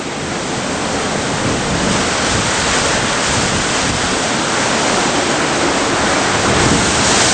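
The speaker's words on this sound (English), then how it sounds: "have an unusually large wave pummel this rock formation in front of us" Heavy ocean surf surges against a coastal rock formation, a continuous loud roar of crashing, churning water close by with steady wind noise and no voices.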